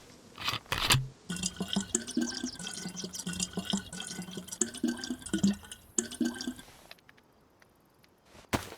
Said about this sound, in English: This other water bottle, I'm just going to empty.